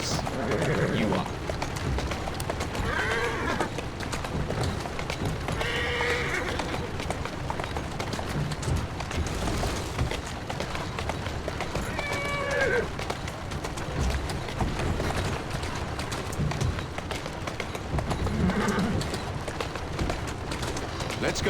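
Galloping horse hooves under busy street ambience in Assassin's Creed Syndicate, with a few short whinnies popping out at intervals over a continuous rumbling bed of game sound and a voice.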